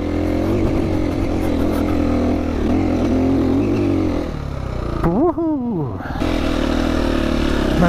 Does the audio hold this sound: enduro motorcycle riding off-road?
yes